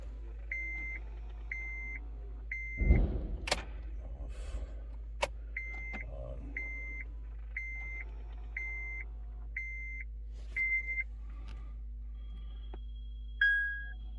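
A car's security system chirps in a steady series of short, evenly spaced electronic beeps during key programming after all keys were lost, with a steady low engine-bay hum underneath, brief clunks and one longer closing tone.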